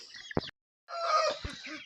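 Brief bursts of ducks calling near at hand while drinking, a short loud squawk then a longer harsh, quacking chatter after a pause.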